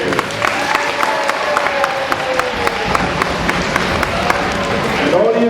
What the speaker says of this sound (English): Let's have a round of applause for our players.